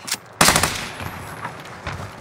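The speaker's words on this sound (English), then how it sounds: "Clean shot, pal. Machine pistol. A machine pistol." Bursts of machine pistol fire in a video game, a sharp loud volley followed by fainter scattered shots and distant pops, with no speech over it.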